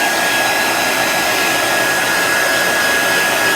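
Hair dryer blowing on wet paint on a handmade DIY farmstand sign: a loud, steady whooshing roar with a faint high whine, unbroken for several seconds, close and alone.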